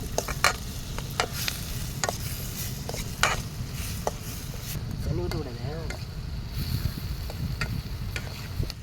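Ginger fries with tomato and salt for a root soup, giving a steady close sizzle with repeated spoon-stirring clicks and scrapes against the pan throughout, plus a low background rumble.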